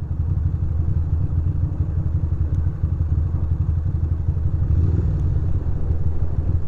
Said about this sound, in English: Oh my goodness, the wind.